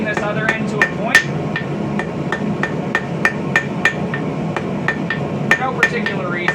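Steel being hammered to a tapered point on an anvil: a steady series of sharp, ringing metallic strikes, close and loud, roughly two to three blows per second with bright anvil ring on each hit.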